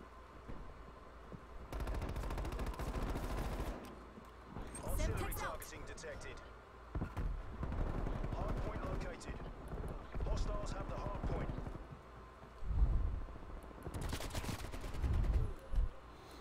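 Burst-fire gunshots from the video game Black Ops Cold War, a Hardpoint match on Crossroads Strike, come in repeated clusters of sharp cracks over a steady game background.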